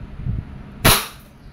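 A single loud, sharp crack from a Wingun 708 airsoft revolver fired in single action, standing out after a stretch of low background rumble and trailing off quickly.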